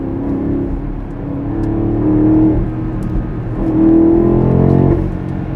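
A BMW X6 M50i accelerating hard in Sport Plus mode, its engine and exhaust giving a loud, deep, heavy roar that rises in waves as it revs, heard from inside the car with no talking.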